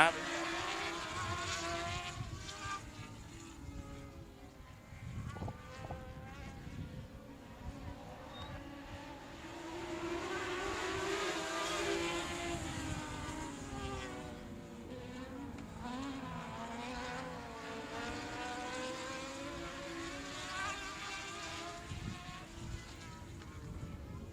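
At South Texas Speedway, race cars roar around the track three wide in a continuous, distant blend of engines whose pitch rises and falls as they pass, under steady background noise.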